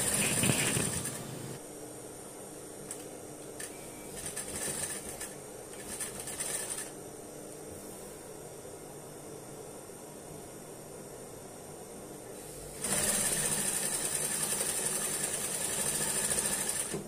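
A sewing machine stitches mukena fabric along a seam of about 1 cm, with a short burst of motor whirring, several stuttering starts and stops, then a longer steady run near the end. No one speaks.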